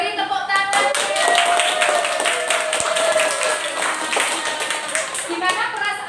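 Students clap their hands together in a classroom, a lively burst of rhythmic clapping with children's voices chattering and calling out over it, fairly close and loud.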